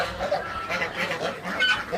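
A flock of farm ducks, including Khaki Campbell and Chinese ducks, keeps up a close, continuous chorus of overlapping nasal calls and clucking sounds.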